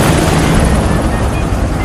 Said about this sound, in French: Il y a un hélicoptère là, il t'attend.